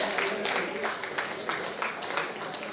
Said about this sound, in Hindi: तालियों में दम नहीं है दोस्तों